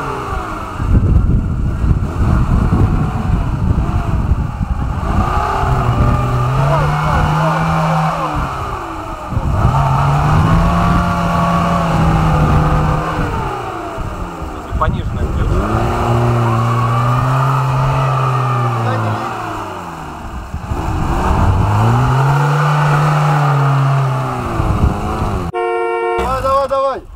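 A Mercedes G-Class SUV engine revs hard in repeated rising and falling surges, loud and close, straining under heavy load over nearly half a minute.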